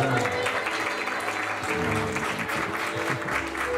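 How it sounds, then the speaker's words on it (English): A wedding congregation claps for the groom right after the vows, a steady, moderately distant wash of applause that runs the full length without any speech over it. "Clap for him."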